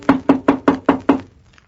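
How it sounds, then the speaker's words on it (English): Six quick, evenly spaced knocks rap on a door, loud and close, in a radio mystery drama. "The sheriff and I squeezed into a closet when the knock came at the door."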